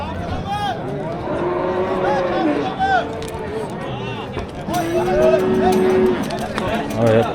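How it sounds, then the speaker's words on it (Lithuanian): Cattle at a livestock market in Uzbekistan moo and low repeatedly, some calls near and loud, over busy crowd chatter and people talking nearby. "Bet čia kokie milžiniški gyvuliai,"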